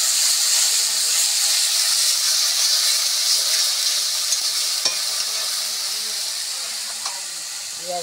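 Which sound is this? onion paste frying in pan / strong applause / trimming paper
onion paste frying in pan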